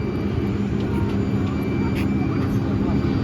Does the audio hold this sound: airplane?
yes